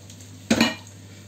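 Meat, chickpeas and onion stirred together in a cooking pot for stuffed peppers and meatballs, a single short scraping clatter of spoon against the pot amid an otherwise quiet kitchen.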